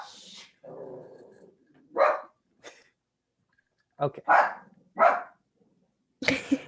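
Dogs in a household bark and growl in short loud bursts, some near and some a little farther off, with a person talking briefly between them.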